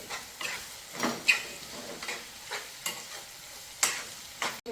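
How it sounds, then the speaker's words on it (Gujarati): Fresh tomato pieces sauté in a pan for a North Gujarat fresh turmeric curry, with a soft sizzle under regular scraping stir strokes that land about every half second, close and fairly quiet. "હવે આપણે સરસ રીતે આને સાંતળવાનું છે।"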